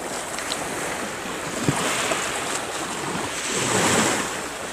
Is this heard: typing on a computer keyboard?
no